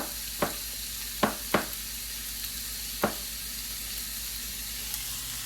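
Thick Western omelet with mushrooms cooking in a pan, a steady soft sizzle beneath a few sharp utensil clicks and taps spread unevenly across the stretch, no speech.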